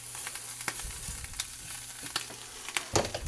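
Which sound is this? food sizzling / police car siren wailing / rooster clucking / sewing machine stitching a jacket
food sizzling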